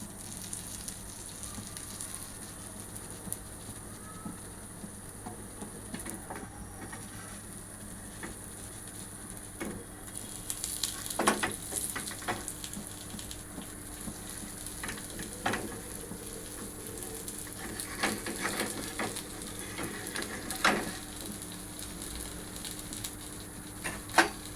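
Potato slices fry in a pan over low gas, giving a steady, quiet sizzle with scattered brief crackles and spatters and no talking.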